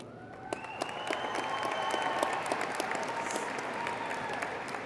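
A family cheering section breaks into applause at a high school graduation ceremony, a steady crowd clapping that swells and holds for several seconds in a large hall, with a faint voice and a few whoops above it.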